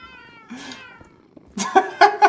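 Cats meow in the video game Minecraft: one drawn-out meow first, then a quick run of three or four louder, overlapping meows close together, clear and unmasked by speech.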